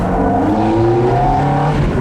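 Ferrari 430 V8 with about 40,000 miles revving loud and close in a workshop after repair, a continuous steady engine drone with no talk.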